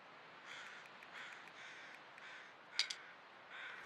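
Crows cawing in the video game The Long Dark, a few faint calls drifting over a quiet outdoor ambience, with one brief, sharper pair of caws standing out near the end.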